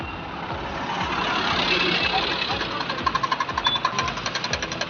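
A diesel engine chugs and knocks with a rhythmic, rattling beat, growing more pulsed toward the end, while a voice talks over it.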